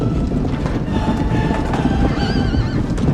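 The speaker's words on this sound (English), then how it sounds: "In the background, the sounds of thousands of horses running echoes" A large herd of horses running in the open, a dense, loud rumble of hooves and wind with several high neighs and whinnies rising above it.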